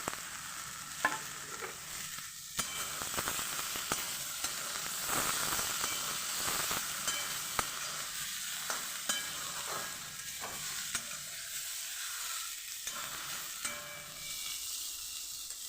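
Chopped potatoes fry in a pan alongside spinach, beans and eggplant, a continuous close sizzle broken by repeated scraping and stirring clatters from a utensil, with no voices.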